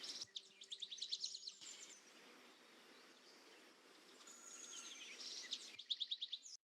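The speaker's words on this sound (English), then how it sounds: "I've also layered in some tropical ambience, got some birds and stuff in there." Tropical ambience layered into a drum and bass track, with bursts of rapid, repeated chirping birdsong at the start and end over a steady, hissy bed of insect-like buzz and jungle atmosphere, fairly quiet throughout.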